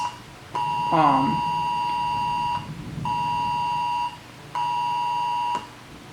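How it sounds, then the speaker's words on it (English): Emergency weather alert tones sounding from a phone for a flash flood warning, three long loud steady beeps separated by short gaps, with a brief voice sound under the first tone. "the weather alert there on my phone"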